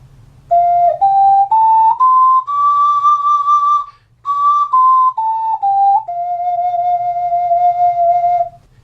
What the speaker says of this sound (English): the major pentatonic scale.